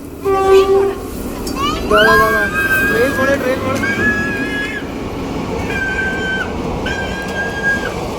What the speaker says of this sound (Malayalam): ആ ട്രെയിൻ പോണുണ്ട്